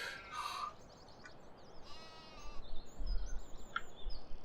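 Sheep bleat in a farming video game, a couple of short bleats near the start and more near the end, with faint rustling and a low rumble between them.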